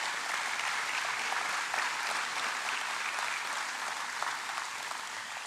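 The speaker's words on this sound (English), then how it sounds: "And so let's give a round of applause for Michael and for our foundation and Jay S" Audience applause at the grand opening ceremony of a university indoor athletics performance facility, a sustained wash of many hands clapping from a large crowd, even and moderately distant throughout.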